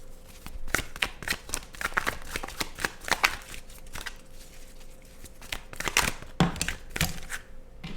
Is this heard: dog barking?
no